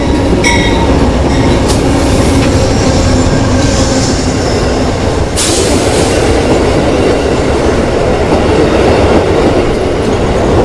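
Amtrak Silver Star train number 91, coming from New York, pulls into Orlando Station with a loud, continuous rumble and wheel clatter. Brief tonal squeals and a burst of hiss stand out early on.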